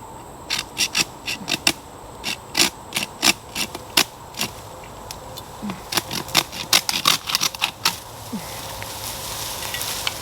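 A saw cuts through a bamboo cane pole outdoors in a run of quick, crisp rasping strokes, irregular and close, speeding into a dense burst before trailing off into quieter background.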